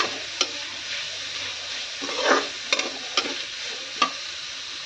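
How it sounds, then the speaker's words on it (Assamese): Cabbage and carrots sizzle steadily in a frying pan while a utensil stirs and scrapes them in several quick, distinct strokes, close and fairly quiet, with no talking. "বন্ধাকবিখিনি গাজৰখিনি দি পেলাই ভাজিম অলপ সময়"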